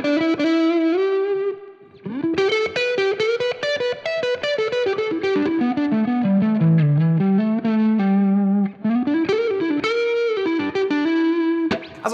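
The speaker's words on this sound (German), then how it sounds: "Deswegen mache ich jetzt einfach mal den Reverb vom Sidekick an." Electric guitar played through a Tone King Royalist MK3 amp with a Sidekick plate reverb, loud distorted chords and melodic lines ringing continuously with a short pause near two seconds, no talking.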